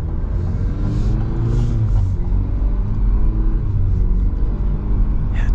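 A 2024 Cadillac CT4-V sedan on the road, a steady low engine and road rumble heard from inside the cabin, continuous and fairly loud with no talking.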